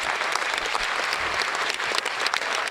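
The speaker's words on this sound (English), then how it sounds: "Round of applause." A burst of crowd applause, thick and continuous clapping from many hands, loud and steady for a couple of seconds with no voices over it.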